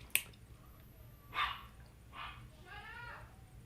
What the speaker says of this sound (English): I'm sorry if y'all hear my loud ass dogs